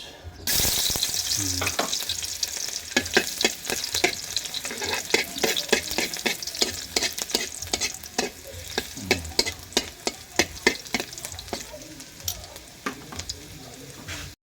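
Onion frying for sinangag, Filipino garlic fried rice, in a provincial home kitchen: a loud continuous sizzle with rapid, repeated spatula scrapes and clacks against the pan throughout, and a faint voice now and then.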